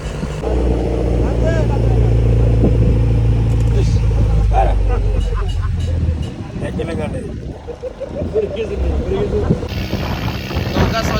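Heavy low trawler engine drone dominates the first half with wind buffeting, on the Meghna River, then fades as people talk nearby over rushing wind and water.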